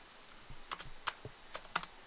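Typing on a computer keyboard during a C# programming lesson, a handful of separate key clicks in an uneven rhythm, close and fairly quiet, with no talking.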